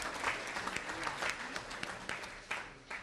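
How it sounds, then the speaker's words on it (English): Applause from the audience at a spring sports banquet, a short burst of clapping from a crowd heard at moderate distance, fairly faint and diffuse with a roomy tone. "so we'll give them a round of applause."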